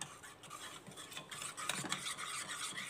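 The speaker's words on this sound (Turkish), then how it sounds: "Şimdi karıştırıyorum." A spoon stirs baby pudding mixture in a pot after water is added, making a continuous close scraping and swishing with faint clinks, steady and moderately quiet, with no speech.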